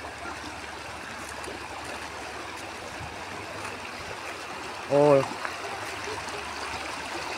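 Water flows steadily in a stream heard outdoors on a walk, and a voice briefly calls out partway through.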